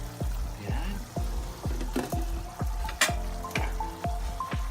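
Ground pork for pork giniling simmering and browning in a pan, a continuous close sizzle broken by a regular series of scraping, stirring knocks about every half second, with faint talk underneath.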